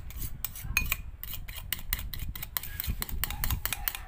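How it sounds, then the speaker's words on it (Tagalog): A metal spoon whips Dalgona coffee in a cup with rapid, steady scraping strokes, close and continuous for several seconds, a low bumping underneath. "Kutsara lang talagang halo natin. Wala tayo mixer eh."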